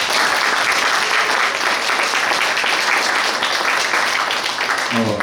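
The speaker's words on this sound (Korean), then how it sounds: "여러분 한 번 더 박수 부탁드립니다" An audience at a book concert applauds a philosopher after his song, a dense, steady wash of many hands clapping for several seconds, loud and continuous from start to end.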